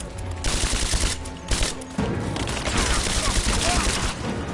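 Video game gunfire erupts in a dense, continuous barrage of rapid shots, close and loud throughout, with a brief lull before the firing resumes.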